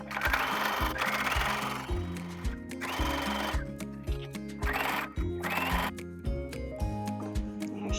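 A sewing machine runs in bursts, stitching a folded binding strip onto the edge of a mini quilt, with steady mechanical whirring that pauses and restarts, heard alongside tonal background music.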